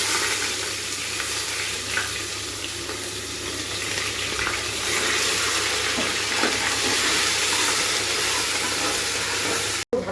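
Onion sizzles steadily in hot oil with whole garam masala for a chicken curry, a loud, continuous frying hiss with faint stirring scrapes, cut off abruptly just before the end.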